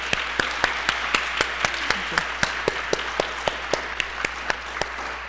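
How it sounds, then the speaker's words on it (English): An audience applauds panelists at an Earth Month sustainability gathering in Oklahoma City: a dense, steady wash of clapping runs throughout, punctuated by sharp, evenly spaced louder claps that keep a regular beat. "Let's give our panelists a round of applause"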